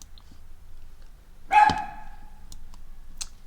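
A dog barks once in a Sims 4 game, a single short, fairly loud bark standing out over a quiet background with a few faint clicks around it.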